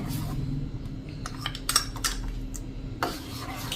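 A spoon scrapes and clinks against a metal pot while milk powder is stirred into boiling tea, a close run of light metallic taps and rubs, with a sharper clink near the end.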